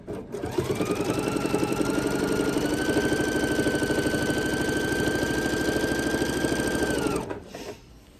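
A sewing machine stitches quilt binding with a steady, loud, fast mechanical whir and needle rattle, holding a constant pitch before stopping abruptly near the end.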